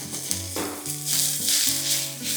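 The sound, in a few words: chopped fenugreek leaves frying in oil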